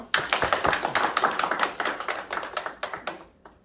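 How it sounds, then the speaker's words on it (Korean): An audience at a negotiation practice conference applauds to welcome a professor, a dense burst of clapping that holds steady, then thins into scattered claps and fades out. "박수로서 환영하시죠"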